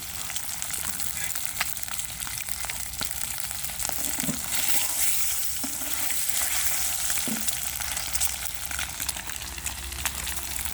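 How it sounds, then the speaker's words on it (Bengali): Eggs frying in oil seasoned with salt and turmeric, a steady close sizzle and spatter running throughout with a few soft stirring clicks, no talk. "লবণ আর হলুদ দিয়ে ডিমগুলো ভেজে নিচ্ছে"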